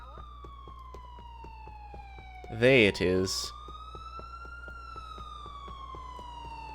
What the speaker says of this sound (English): follow the sound of that police siren